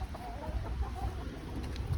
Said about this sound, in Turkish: Tavuk cinsi Lohman.